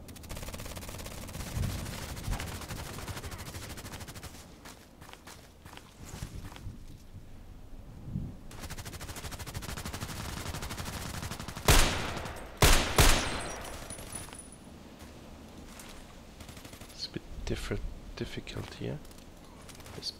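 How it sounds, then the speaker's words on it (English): Video game gunfire aimed at the player's position, scattered shots and bursts over a steady background of wind, with a few loud sharp cracks near the middle; a voice talks at times. "Shooting at my position, I guess."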